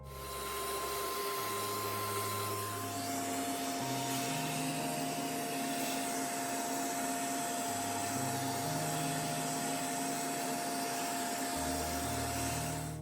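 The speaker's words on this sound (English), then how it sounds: "Use a vacuum cleaner with a crevice attachment to clear out dust from these air vents." A vacuum cleaner with a crevice attachment clears dust from the air vents of a PS5 Slim console, its loud steady whine shifting in pitch as the nozzle moves across the vents, with no talking.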